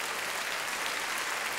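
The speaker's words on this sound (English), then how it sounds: "How about a big round of applause for our Frankie here?" A live audience at a Patsy Cline tribute show claps for a performer named Frankie, a dense, even burst of applause at moderate distance with no voices over it.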